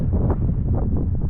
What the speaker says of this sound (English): that's a 5 mile an hour wind